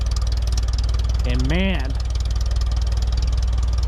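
An Allis Chalmers Model D road grader engine idles with a steady, low, rapid chugging throb, close and continuous, while someone speaks briefly partway through.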